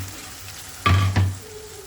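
Onion-tomato paste goes into a pan with fried ginger-garlic paste for a stuffed brinjal curry, giving a low frying hiss with two quick close clanks of a utensil against the pan.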